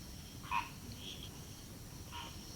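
Tree frogs croak at night over a steady hiss of background noise, with a few short, faint calls spaced apart.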